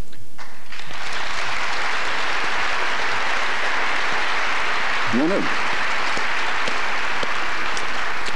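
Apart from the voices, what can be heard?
audience applause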